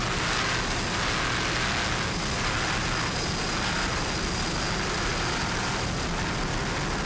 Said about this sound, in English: This 35-foot fountain powered by a pair of 525 horsepower inboards.